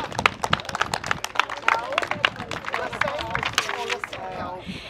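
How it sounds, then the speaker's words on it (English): Applause from a crowd at a French classic car show awards ceremony, dense irregular clapping running steadily throughout at moderate loudness, with voices mixed in underneath. "Big round of applause, thank you."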